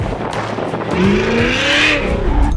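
A Trans Am Worldwide custom car revs loudly up close, its engine pitch climbing and falling with a faint tire squeal.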